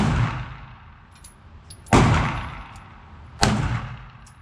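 A CZ Shadow 2 SAO pistol fires three sharp, loud shots spaced over a few seconds, each with a ringing echo that fades before the next report.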